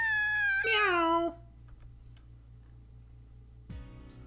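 Cat meowing in the Kanon visual novel game: one loud, drawn-out rising and falling meow up close, then quiet with faint ticking and a short soft sound near the end.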